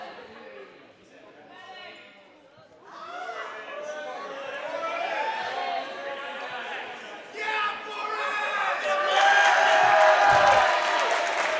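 A volleyball arena crowd swells into a loud cheer during a men's match between Southern Virginia and North Carolina, building steadily toward the end while a commentator keeps talking over the din.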